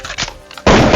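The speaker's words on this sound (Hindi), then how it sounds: "सीएम पर फायरिंग चालू हो जाती है।" Gunfire aimed at the CM in an animated series episode, arriving as a sudden loud burst of sustained shots that fills the second half after quieter background sound.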